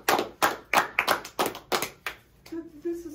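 Scattered hand claps at an award ceremony, a small group clapping in uneven bursts up close, tapering off as a voice begins near the end.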